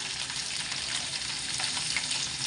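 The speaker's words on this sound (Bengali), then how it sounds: "চুলায় তেল গরম দিয়ে দিছি" Oil heating in a pan on a stove gives a steady, close, even sizzle that hisses continuously without pauses.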